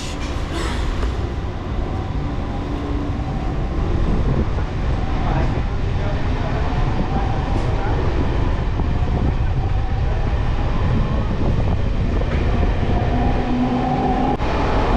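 Rumbling, rattling interior of a moving local train from Panskura to Puri, leaving an Odisha station, with rhythmic clatter from the tracks, steady and loud, with faint voices in the background.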